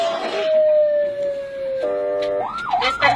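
An ambulance siren wails loudly and close, first as a long steady tone that slides slowly down, then shifting into a rising-and-falling yelp; no speech over it.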